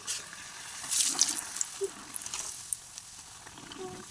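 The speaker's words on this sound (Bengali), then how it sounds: "কড়াইটা আমার গরম হয়ে গেছে। দেখো আমি লুচি ছেড়ে দিচ্ছি।" Luchi flatbreads fry in hot oil in a kadai, giving soft, uneven sizzling with scattered light pops and spatters at close range and no voices.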